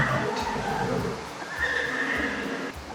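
Horses at a horse shelter give repeated close neighs and whinnies, with faint hoof clip-clops underneath.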